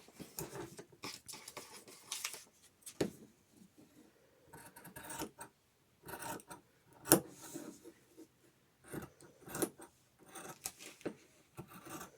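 Scissors cut out pieces of 100% cotton fabric for face masks in quiet, close, irregular bursts of snipping and crisp cloth rustle, separated by pauses.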